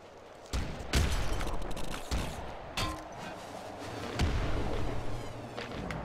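Grenade launcher blasts in the top-down shooter Nuclear Throne, several sharp booms going off in quick succession amid dense, noisy game action and continuous background rumble.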